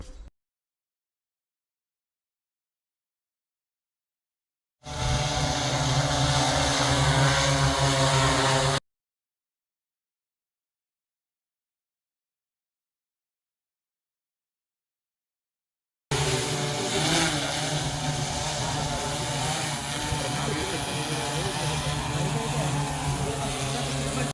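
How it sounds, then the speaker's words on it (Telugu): A steady, loud mechanical drone hums in two separate bursts, broken by long silent gaps, from a remote-controlled agricultural drone spraying pesticide over a cotton field. "ఈ డ్రోన్ చూడండి, మన రిమోట్ కంట్రోల్ తోటే నడుస్తూ ఉంది"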